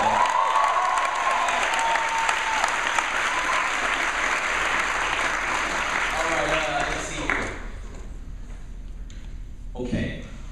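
A chapel audience at Biola University applauds loudly and continuously, with scattered cheers, before the clapping fades and a voice speaks briefly near the end.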